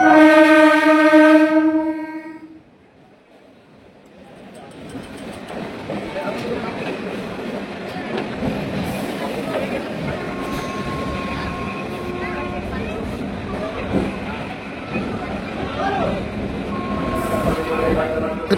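A delayed local train at Panskura station platform: a loud horn blast opens, then a long rumbling, clattering roar of carriages continues steadily with people talking nearby.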